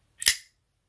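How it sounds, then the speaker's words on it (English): Manual folding knife snapping open in one sharp, crisp metallic flick, brief and close, alone in quiet. "it's just a manual folder, but it opens with authority. Listen to that."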